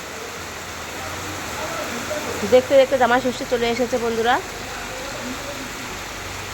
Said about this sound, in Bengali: বৃষ্টিটা এরকম আষাঢ় মাসের মতন হয়েছে।